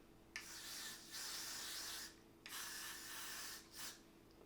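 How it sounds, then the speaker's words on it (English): Got to Be Freeze hair spray hisses in close, steady bursts: two long sprays and then a short final puff, with no talking. "I am going to go in with the Got to Be Freeze spray"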